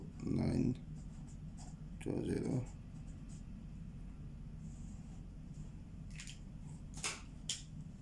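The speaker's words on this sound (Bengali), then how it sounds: "তো আমি ডেটটা একটু লিখে দিতেছি।" A pen writes a short date on paper while marking lottery digits, giving light scratchy strokes in a few brief bursts against a quiet background.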